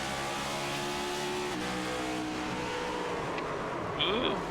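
Race car engine revving through gear shifts on a restart during an HTL Cup Series race, a sustained loud drone with rising and falling pitch sweeps; a commentator talks over it.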